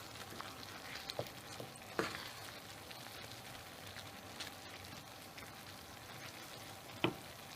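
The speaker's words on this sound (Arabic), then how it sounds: "ونحرك." Chicken pieces and vegetables fry in a pan as they are stirred, giving a steady, fairly faint crackling sizzle with a few sharper scrapes and clicks from the utensil scattered through.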